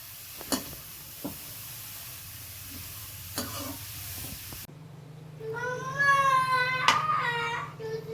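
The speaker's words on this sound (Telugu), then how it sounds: "క్యారెట్ కూడా నేతిలోనే వేయించుకోవాలండి" Grated carrot fries in ghee for carrot halwa, a soft steady sizzle with occasional spoon taps against the pan; midway the scene shifts and a cat's drawn-out meows rise over the cooking noise.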